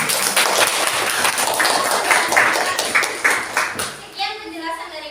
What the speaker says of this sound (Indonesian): Tepuk tangan dulu gitu